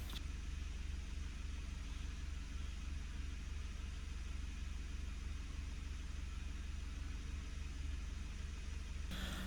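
A Honda Fit Shuttle idling with a fuel-economy complaint, its engine giving a faint, steady, even hum and hiss at close range throughout, with no voices.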